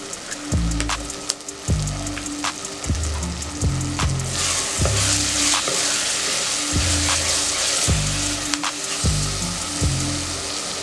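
Tomato paste and red chili paste sautéing in a pan for mutton biryani, a continuous loud close sizzle with repeated rhythmic scraping and stirring strokes of a spoon against the pan, no voices.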